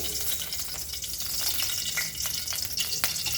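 Chopped vegetables fry in cooking oil for veg Hakka noodles, a continuous bright sizzle with occasional stirring scrapes, close and steady.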